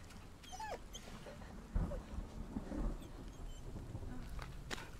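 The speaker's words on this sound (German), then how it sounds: "Klingt nach einem Wolf oder so. Oder ein Hund." A dog or small wolf in The Medium video game whimpers and yelps in short bursts over a low rumbling, stormy game ambience.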